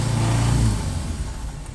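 A car, apparently one that had overheated with a hot fuel pump, drives off: a loud close engine rumble and rev that swells briefly, then eases slightly as it pulls away, with no talk.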